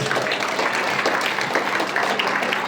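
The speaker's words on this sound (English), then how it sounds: "Once again, give him a big round of applause." Applause from a school assembly honouring a newly selected house leader, a steady dense wash of many hands clapping at moderate volume throughout, without speech over it.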